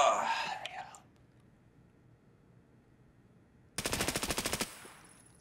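A rapid burst of automatic gunfire in Escape from Tarkov, loud and sharply rhythmic, comes after a quiet stretch with faint murmured talk and a brief noisy sound at the start.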